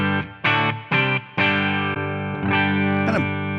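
Electric guitar played through a Tonex amp tone model with the bright switch engaged, a series of distorted chords struck about once every half second, each ringing out loud and sustained.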